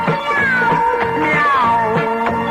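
Several people sing-song a playful meow in repeated, drawn-out rising and falling cries during a lively studio dance number, voices imitating a cat with a steady beat underneath.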